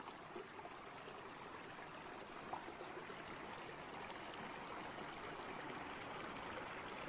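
Iron Creek, a small mountain stream on a steep rocky slope in Idaho's Lemhi Range, flows with a steady, faint rushing babble, continuous and distant with no voices.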